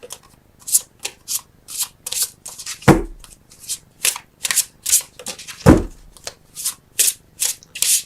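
Tarot cards being shuffled by hand during a reading: a steady, close run of crisp riffling bursts, roughly two per second, with a couple of heavier taps as the deck is squared, no talking.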